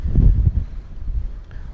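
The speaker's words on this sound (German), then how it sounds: "Gerade sehr windig." Strong wind buffets the microphone at a high rocky viewpoint on Koh Phangan, Thailand, with low rumbling gusts that swell and ebb over a couple of seconds, loud and close.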